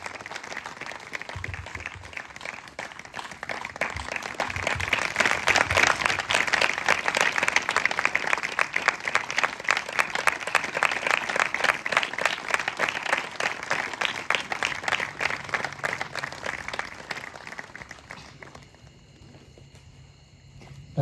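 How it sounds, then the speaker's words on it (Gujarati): Enthusiastic congregation applause in a church welcoming a pastor for an Easter service, building from scattered claps into a full steady roar of hands, then tapering off near the end. "આવીએ જોરદાર તાળીઓથી પ્રભુના દાસ પાસ્ટર રાજીવ થોમસનું આપણે સ્વાગત કરીએ"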